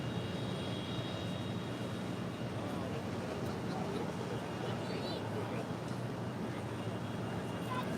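A JetBlue airliner rolls for takeoff on an airport runway, its engines a steady low roar in the distance, with faint radio chatter and nearby voices.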